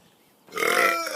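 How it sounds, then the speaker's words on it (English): A single loud, close burp breaks a brief quiet, rising abruptly and holding for about half a second. "I'm so awesome with my burps"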